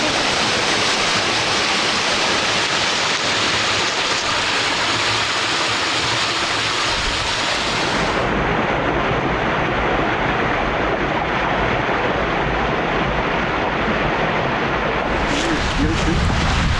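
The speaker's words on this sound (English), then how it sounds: "And down here is Spirits Creek Falls." Spirits Creek Falls on the Ozark Highlands Trail in winter, a steady broadband rush of falling water that stays loud and continuous throughout, with the tone shifting slightly partway through as the listener moves.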